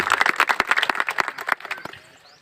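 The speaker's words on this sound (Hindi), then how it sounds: "जोरदार ताली बजाकर उनका स्वागत करें" Audience applause at a ground-breaking ceremony in India, welcoming a local prince who is also the area's MLA: dense, lively clapping from a nearby crowd that thins and fades toward the end.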